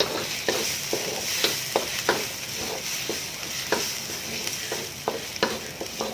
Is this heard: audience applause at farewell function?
no